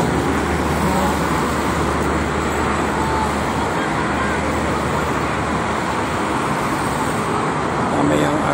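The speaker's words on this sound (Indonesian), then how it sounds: "Ramai mobil pribadi yang ke arah Jakarta kebanyakannya." Dense traffic roars steadily on the Jakarta-Cikampek toll road, where trucks, buses and private cars pass. The broadband rumble is loud and unbroken throughout, with no clear gaps between vehicles.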